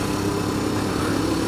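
Royal Enfield Himalayan motorcycle engine heard while riding, a steady, dense drone with constant wind-like roar, loud and close, no talking.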